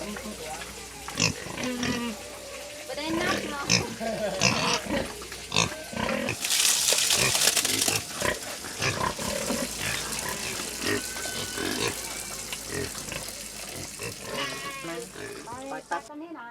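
Pigs grunt and squeal on a small farm in an Asian forest village, in close, irregular bursts mixed with splashing water and other farmyard noise, under a voice speaking throughout.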